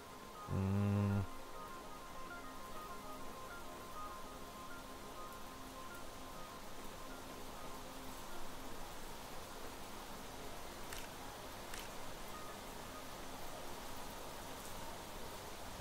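Rain falling in the Planet Crafter video game, a steady, soft hiss of even noise lasting throughout, with a brief louder thump near the start and no talking.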